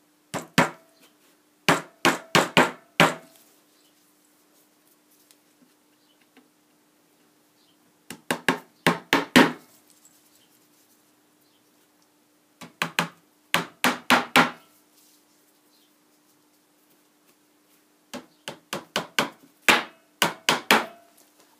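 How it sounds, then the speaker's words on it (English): Push pins being driven in with a hammer: four bursts of quick, sharp taps, each burst four to six strikes, separated by pauses, over a faint steady hum. "I'm going to be hammering a couple of push pins in"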